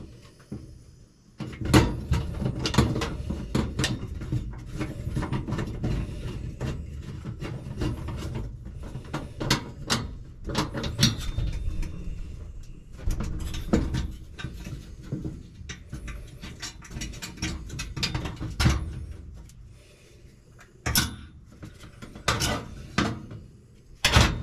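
Screws and metal parts go back onto a Samsung gas range after a natural gas to LP propane jet conversion, producing close, irregular clanks, taps and scraping rubs over a long stretch with short pauses.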